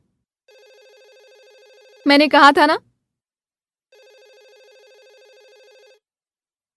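An electronic telephone ring sounds twice at a clinic reception desk, with a brief spoken phrase between the rings.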